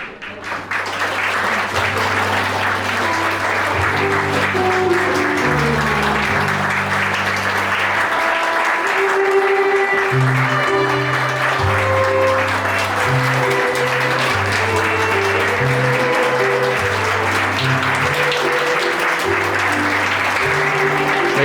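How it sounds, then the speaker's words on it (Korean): Guests at a church wedding in Sejong stand and applaud as the bride enters, steady sustained clapping running the whole time beneath a loud organ-like processional melody with sustained bass notes. "하객 여러분께서는 모두 기립해 주셔서 큰 박수로 환영해 주시기 바랍니다."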